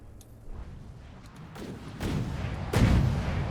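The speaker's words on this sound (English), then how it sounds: "the torpedoes are launching" Torpedoes launch during a naval battle video game, heard as a series of deep muffled booms and thumps that build in loudness, the heaviest blast landing near the end over a rumbling background.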